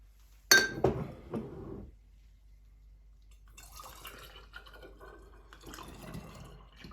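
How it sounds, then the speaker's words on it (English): Homemade Jatembe juice is poured from a glass into a bottle: a bright clink of glass at the start, then soft trickling and splashing of liquid that fades in and out. "the Jatembe juice is ready to go into"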